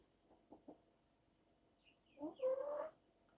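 Chickens give a couple of soft clucks followed by a louder, drawn-out squawking call, faint and close against a quiet background.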